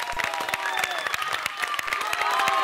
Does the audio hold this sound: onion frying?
no